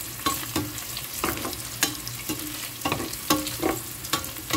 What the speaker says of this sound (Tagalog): Ginisa natin sa bawang at saka sibuyas